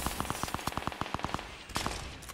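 Rapid, evenly spaced gunshots in Fortnite, a quick burst of about a dozen sharp cracks followed by a couple more shots after a short pause, moderately close.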